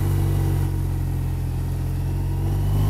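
A BMW R1200RT motorcycle engine drones steadily from the rider's position, loud and continuous with a brief shift in tone during a clutchless gear change.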